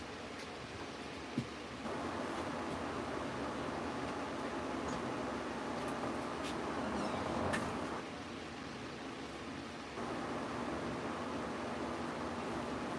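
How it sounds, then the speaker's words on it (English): An electric fan runs steadily in a room with the door open, a broad even whoosh of moving air that holds at a constant level throughout, with no voices over it. "Let me put the fan on and open the door so it blows the smelly shit outside."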